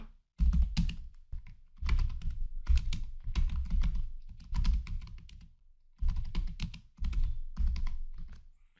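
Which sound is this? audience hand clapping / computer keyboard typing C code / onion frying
computer keyboard typing C code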